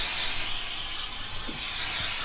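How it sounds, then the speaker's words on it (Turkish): Waterproofing spray hissing from an aerosol can onto a hat, one continuous close, loud spray held for a couple of seconds. "Öncelikle şapkaya spreyi sıkıyoruz."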